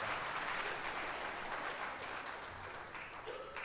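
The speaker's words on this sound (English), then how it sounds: "Let's give Riker a round of applause for this" A church congregation gives a round of applause, with steady, dense clapping throughout that tapers a little toward the end.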